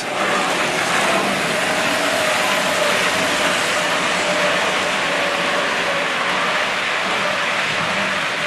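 A steady, loud rushing rumble of a long, triple-headed Hornby Triang model train running continuously on track, with no voices.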